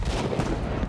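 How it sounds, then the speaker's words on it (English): Video game gunfire from Battle Prime, a dense, loud burst of rapid shots filling a short moment without pause. "I'll just shoot you right here."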